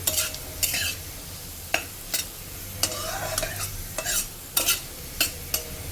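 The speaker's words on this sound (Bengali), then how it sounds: "আলুটা ভালো করে ভাজছি কারণ এটা যাতে সেদ্ধ হয়ে যায়" Potatoes sizzle in a pan while a spatula repeatedly scrapes and stirs, sharp clinks arriving every half second or so over the steady frying hiss.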